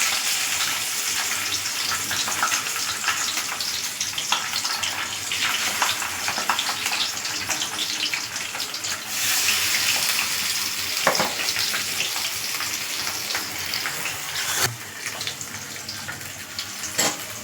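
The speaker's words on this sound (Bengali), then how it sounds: "তেলটা গরম হয়ে গেছে। এবার মাছটাকে ছাড়বো একে একে।" Fish slid one by one into hot oil in a home kitchen, giving a loud, steady, hissing sizzle that runs unbroken throughout with no talking.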